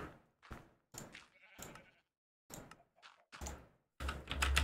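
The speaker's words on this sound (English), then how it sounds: "Sheep." Sheep bleats from the Minecraft modpack Skyfactory 4 play as a series of short, nasal calls separated by brief silences, fairly quiet, with a denser cluster of sounds at the very end.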